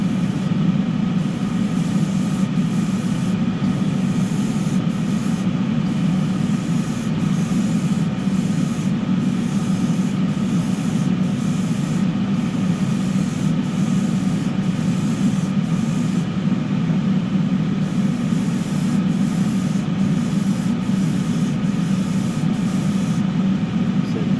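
A paint roller spreads a second, heavier coat of paint across a surface, giving a steady, continuous rubbing swish with a faint rhythmic pulse, close and even throughout with no talking.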